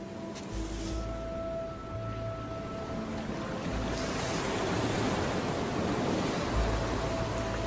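Waves wash onto a sandy island beach used by nesting sea turtles, a continuous broadband surf roar that swells gradually, with faint low tones underneath and no talking.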